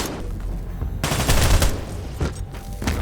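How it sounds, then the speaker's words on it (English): Police open fire on a rogue clone in a dramatic scene, a loud, dense volley of rapid gunshots overlapping into a sustained burst of fire with brief lulls, close and dominant. "they shoot and seemingly destroy the rogue clone"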